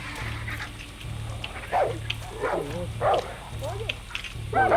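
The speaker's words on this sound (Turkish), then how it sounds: "Köpek de var yalnız." A dog barks repeatedly in short bursts in Far Cry 6 over a low hum and background noise, moderately close, with a voice talking at times.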